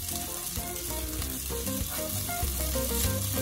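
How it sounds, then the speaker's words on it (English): Ginger garlic paste sautéing in a pan gives a dense, constant sizzle close up, with scattered soft scrapes of stirring. Background music with tonal lines runs faintly underneath, and no one talks. "we'll add in the ginger garlic paste and continue sauteing until the raw smell of the ginger garlic is no longer there"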